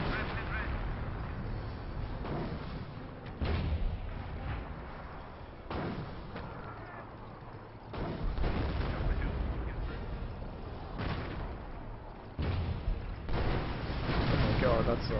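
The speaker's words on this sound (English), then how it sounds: "Oh, watch, artillery." Artillery fire in a Company of Heroes 4v4 match: repeated heavy booms and blasts erupt every couple of seconds over a constant din of battle, with a player's voice talking over it.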